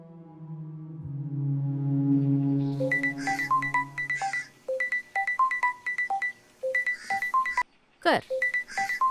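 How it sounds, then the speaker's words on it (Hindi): A mobile phone rings with a melodic electronic ringtone. Sustained low tones lead into a repeating pattern of short bright notes with brief pauses, moderately loud. A sharp sweep near the end cuts it off. "पिंकी दी दिन भर सिर्फ मिस कॉल करती रहती है।"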